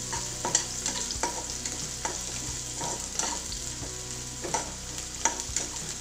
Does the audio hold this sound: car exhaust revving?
no